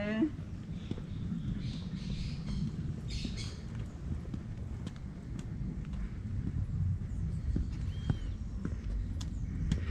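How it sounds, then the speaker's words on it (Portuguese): Footsteps crunch along a trail through a nature park in Monte Verde, Minas Gerais, with scattered high bird calls and squawks over a steady, fairly loud outdoor background and faint voices. "Esse trecho aqui só dá para escutar os nossos passos no chão e as aves."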